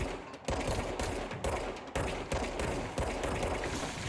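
Rapid automatic gunfire in the Control Resonant video game, loud sustained bursts broken by short pauses, as enemies are shot.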